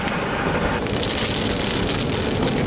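Dense hail and rain pelt down steadily, a close, continuous hiss and patter with no talking.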